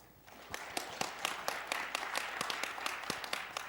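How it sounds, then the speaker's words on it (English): Audience at a security forum applauds to welcome the moderator, a steady wash of many clapping hands swelling in after a quiet start, with sharper individual claps popping through, heard from a distance in a large hall. "So please welcome our moderator with a big round of applause."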